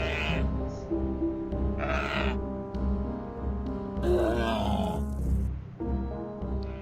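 Wolves in the video game American McGee's Grimm give strange, bleating growls and grunts over steady game music and ambience, in several short bursts.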